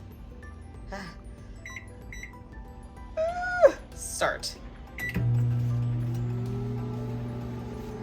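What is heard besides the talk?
microwave oven running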